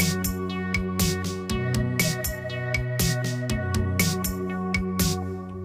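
A Roland JD-Xi synthesizer plays a looping two-bar sequence, with bright plucky stabs over a sustained bass line and a steady beat. The playing is full and close, with no voices.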